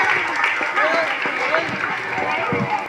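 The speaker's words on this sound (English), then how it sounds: "Please give them a big applause, ma'am." Parents and audience clapping for young children at a kindergarten school event, steady close applause filling the whole moment with crowd murmur and voices beneath.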